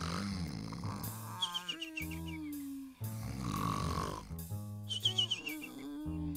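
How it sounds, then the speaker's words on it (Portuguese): Exaggerated snoring in a children's Sesame Street play episode, several long rhythmic snores each followed by a whistling exhale, close and loud, with a musical backing underneath. "Todo mundo roncando."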